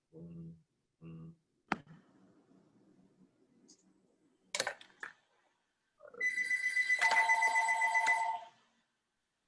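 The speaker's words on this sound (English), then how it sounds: "Somebody's phone ringing." A mobile phone rings in a room, its trilling tone rising loud and sustained for about two seconds toward the end, after scattered clicks, taps and brief voice fragments.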